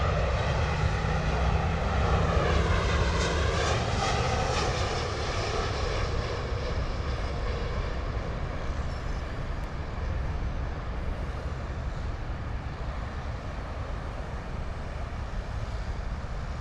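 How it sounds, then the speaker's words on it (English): A LOT Polish Airlines Boeing 737-800 MAX arriving from Warsaw roars loudly on landing approach, its engine whine sweeping as it passes nearby, then settles into a steady, slightly fading jet rumble with no speech. "737-800 MAX coming in from Warsaw"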